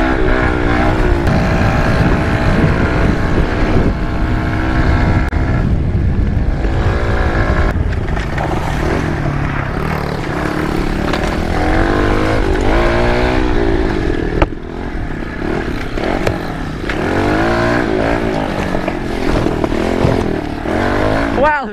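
A pit bike engine running at full throttle in its highest gear, a loud continuous buzzing drone with wavering pitch, while a voice talks over it.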